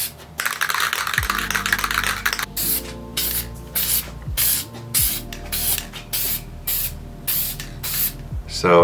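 A spray paint can hisses out an opening burst of light coat on BMW E90/E92 roof trim, then a series of short, evenly spaced sprays with brief pauses between, close and crisp, mixed with light clicking.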